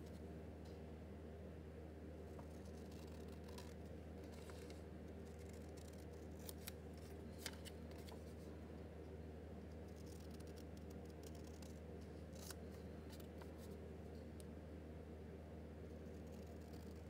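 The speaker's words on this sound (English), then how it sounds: "So I'm just going to cut around." Scissors snip steadily around a paper photo picture being trimmed for an envelope journal tag, a series of crisp close cuts over a faint constant hum, with no talk.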